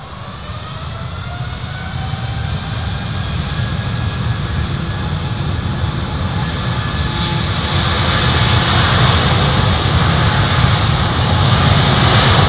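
Loud, steady roar of Boeing 747 freighter jet engines at Miami airport rising in pitch and intensity as they spool up, with a whining tone climbing over a broad rumbling wash.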